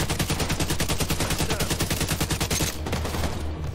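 Rapid automatic gunfire in Tom Clancy's The Division 2 rattles in a fast, even burst for nearly three seconds, loud and close, then cuts off into a lower rumble.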